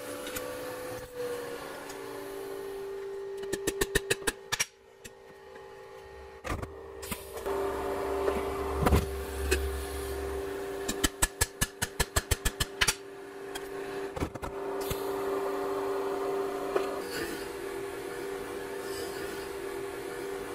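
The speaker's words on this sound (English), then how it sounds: "So I'm going to start putting tack welds around the edge of this." Tack welding around the edge of a copper water tank in a workshop: bursts of rapid crackling buzz, each lasting a second or two, separated by a steady electrical hum and quieter gaps.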